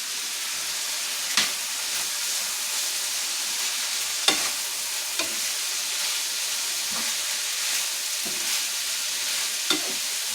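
Ground beef larb with spring onions, cilantro and green onions warms in a hot pan, making a continuous even sizzle broken by a few sharp clacks of a spoon against the pan.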